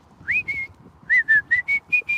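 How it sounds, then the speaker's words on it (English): A group of people whistling a tune, two rising notes followed after a pause by six evenly spaced short notes, clear and fairly loud over faint background murmur. "We're going to sing it, then whistle it after 3."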